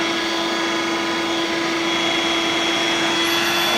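A Dirt Devil Vibe lightweight corded bagless stick vacuum runs with a loud, constant whine and a steady pitched hum that never changes.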